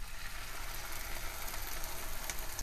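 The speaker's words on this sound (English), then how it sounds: "we're going to add in the garlic and saute that" Garlic sautéing in a pan for a vegan Spanish fideuà, a dense continuous sizzle and crackle close by with no voices over it.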